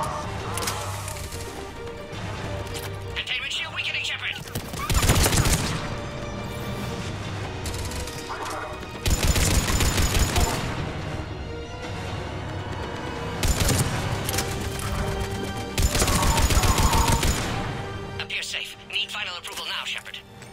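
Mass Effect 3 battle gunfire comes in several loud, crashing bursts spread across the stretch, set against steady combat noise, with radio-style voices talking in between.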